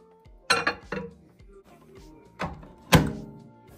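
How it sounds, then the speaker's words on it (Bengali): A bowl set into a microwave oven: a handful of close, sharp knocks and hollow thunks with a light clink, spaced apart over a quiet background. "আমি এবার বাটিটিকে মাইক্রোওয়েভ ওভেনের মধ্যে দিয়ে দিচ্ছি।"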